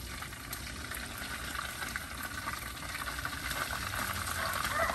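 Red tilapia fries in hot oil for a crispy finish, a continuous close crackling sizzle that swells slightly toward the end.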